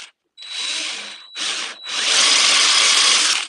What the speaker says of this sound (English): I'm just going to drill a dowel hole here